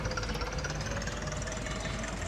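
Old tractor engine in Agricultural Simulator Historical, pulling a harvester along, a steady knocking mid-pitched drone that runs continuously and fairly close without pause.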